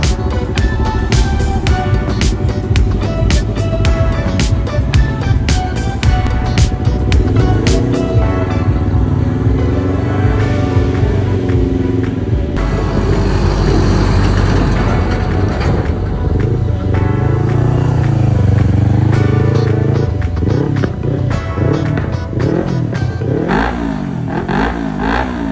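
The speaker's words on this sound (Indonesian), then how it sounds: "setelah ini semua selesai, motor ini dites dulu sama si Fadel" A Yamaha R25 sport motorcycle engine runs loud and close, revving repeatedly with rising and falling whines over a throaty rumble for a sustained stretch.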